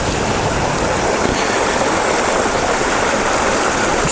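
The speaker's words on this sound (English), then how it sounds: "waterfall." A small mountain waterfall tumbling down boulders beside a trail, giving a loud, steady, broadband rush of falling water throughout with no talking.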